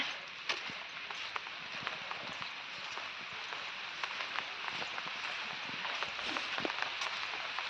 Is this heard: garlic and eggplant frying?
no